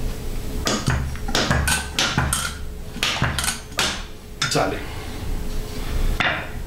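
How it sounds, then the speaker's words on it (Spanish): Sharp metallic hammer strikes ring out in an uneven series, about a dozen blows, knocking out a seal from a Harley-Davidson 39mm fork leg, with a brief spoken word among them. "para sacar ese empaque de ahí, solamente hay que martillar un poco esto hacia afuera"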